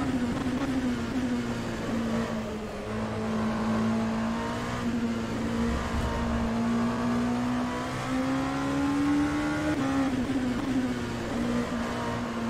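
Mid-mounted rear engine of a Ligier JS P217 prototype race car in rFactor 2, a steady loud drone holding nearly constant pitch with small rises and dips, running continuously throughout.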